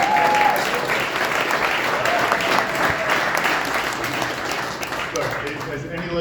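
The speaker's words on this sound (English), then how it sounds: "Could everybody give her a round of applause?" A crowd at a political event in Iowa breaks into steady, loud applause, continuous clapping filling the room throughout and easing slightly near the end.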